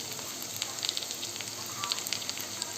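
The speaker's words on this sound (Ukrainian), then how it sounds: "тепер ми викладаємо сюди наверх наше раніше обшмажене м'ясо" Onions with pre-fried meat sizzle and crackle steadily in a frying pan, a close, even hiss dotted with small pops, with no talking.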